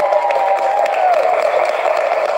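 Students in a classroom clap together in a steady, continuous patter of applause that holds at an even level from start to finish, with a faint voice drifting underneath.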